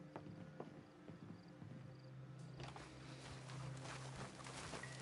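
Horse hooves clip-clop in a video game, a quiet, uneven patter of steps over a low ambient hum, with faint background rustling and no speech.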